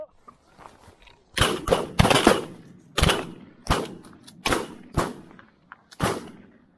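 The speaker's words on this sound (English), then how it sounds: "Yes, good shot, Quinn." Several shotgun blasts ring out during a goose hunt on a cold, frosty morning in Scotland. The bangs are sharp, loud and close, about eight shots in irregular succession, with short echoing tails.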